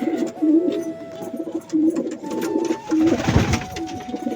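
Pigeons in a pigeon room coo in soft, repeated low phrases that overlap and pause, close by, with a brief rustle of movement near the end.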